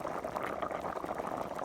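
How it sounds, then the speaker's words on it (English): A pot of sweet potato and pumpkin stew bubbles steadily on the heat, a dense, close simmering burble with no talking. "So sweet potatoes are bubbling."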